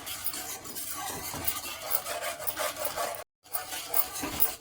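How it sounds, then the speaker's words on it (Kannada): Milk powder and sugar stirred into milk for a carrot sweet, a steady close scraping and swishing of a spoon against the pan, continuous with one brief gap. "ಮಿಲ್ಕ್ ಪೌಡ್ರನ್ನ ಶುಗರ್ನ ಎಲ್ಲ ಹಾಕಿ ಚೆನ್ನಾಗಿ ಮಿಕ್ಸ್ ಮಾಡ್ಕೋಬೇಕು"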